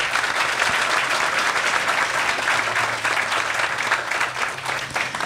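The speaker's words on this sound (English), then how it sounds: "And just clap it up for yourselves one time." Applause from an audience fills a teen warehouse grand opening celebration, steady dense clapping throughout that fades slightly toward the end, with no voices on top.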